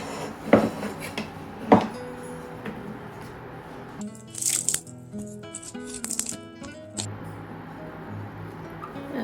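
Rinsed canned beans tipped into a soup pot of bean and country ham soup and stirred, two heavy wet thumps followed by clinks, squishes and spoon scrapes against the pot, close up with no talking.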